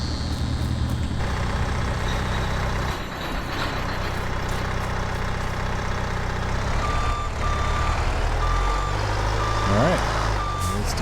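A truck engine idles steadily in a video game while reversing beeps sound in a regular evenly spaced series over the rumble, with a short hiss and shifting engine tone near the end.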